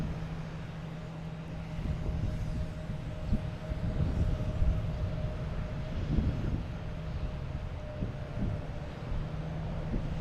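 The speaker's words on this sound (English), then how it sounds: "next coming in, like I said, should be the JetBlue coming in from Orlando" A JetBlue airliner arriving from Orlando and landing at Boston Logan, a steady distant jet rumble with a faint tonal whine that holds throughout at low volume.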